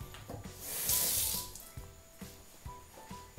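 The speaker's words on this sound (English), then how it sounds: "I'll probably run some water through it just in case." Water runs briefly through a DIY plastic doser container for a Jebao DP-4 dosing pump, a short soft splashing gush that swells and fades, followed by light knocks and handling.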